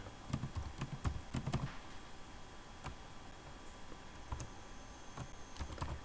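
Quick, light clicks of a laptop keyboard as Python code is typed, coming in short bursts of keystrokes with brief pauses between them, close and clear against a quiet background.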